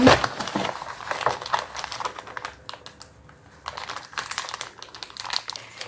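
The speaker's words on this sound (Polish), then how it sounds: "Dobra, i otwieramy paczkę." A parcel is cut open with scissors, giving close, busy crinkling and rustling of plastic wrapping in quick bursts, with a short pause midway.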